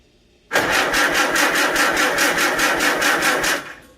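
A Farmall Super A tractor engine catches abruptly and runs with more throttle for about three seconds, a loud, close, rapidly pulsing chug that then fades down.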